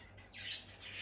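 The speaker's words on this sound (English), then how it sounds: "Damn birds." Birds squawking outdoors in a few harsh, rising cries over a faint low background hum.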